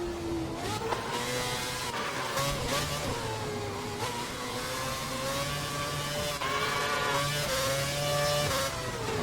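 Formula 1 cars in the F1 2011 racing game, including a McLaren, roar past at Brazil with a continuous loud engine whine that rises and falls through gear changes, several cars blending together close by.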